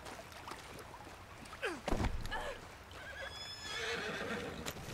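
A horse in Red Dead Redemption 2 whinnies loudly in a sharp, descending burst, with hoof clip-clops and background game ambience before and after.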